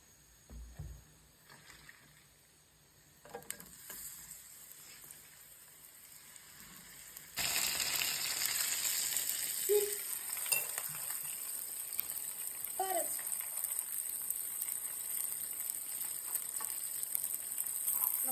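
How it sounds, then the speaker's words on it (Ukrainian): A few quiet kitchen clinks, then a loud, steady sizzle of eggplant frying in hot sunflower oil that continues to the end, with occasional small pops. "Баклажанчики смажимо на соняшниковій олії."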